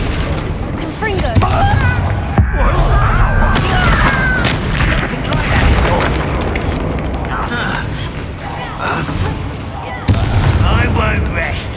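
A Confringo fire spell explodes in Hogwarts Legacy, heavy booming blasts and crackling bursts layered with game effects and voiced character speech over a loud, busy battle.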